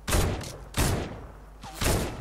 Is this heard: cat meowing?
no